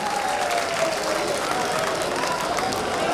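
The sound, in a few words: audience applause welcoming poet Shambhu Shikhar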